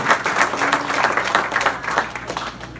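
Church congregation clapping together in praise during a Spanish-language worship service, a dense, steady wash of hand claps that carries on without a break.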